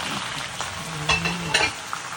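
Squid and shrimp crackling and sizzling in a hot electric pan, a steady frying hiss with a few sharper pops and stirring clatter.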